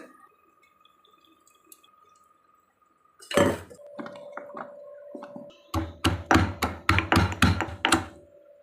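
Garlic cloves are pounded for a dried vaalai fish curry: a close run of about eight sharp, rhythmic thuds and clinks after a steady hum and some quieter handling knocks.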